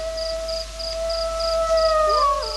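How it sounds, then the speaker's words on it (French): A dog howls in a parking lot at night, a long, steady, thin wail held for a couple of seconds before it bends and breaks off, over a faint rhythmic insect-like chirping in the background. "J'entends un chien là qui crie dans le parking."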